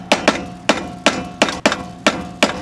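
Sharp hammer blows, about eight in a loose irregular rhythm, strike a nut while notching it on a Mazda Miata wheel hub, each one ringing briefly and close by, with no talk.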